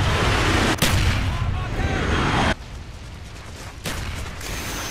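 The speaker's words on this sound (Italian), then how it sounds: "Bombardamento napalm in corso." Napalm bombardment in Call of Duty Black Ops hits as a loud, continuous roar of booming artillery-like fire, broken by sharp blasts and abrupt cuts, with constant heavy rumble throughout.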